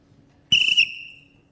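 A lecturer whistles a single high-pitched note, loud and close, holding it steady for about a third of a second before it thins and fades out over the next half second, with faint room noise around it.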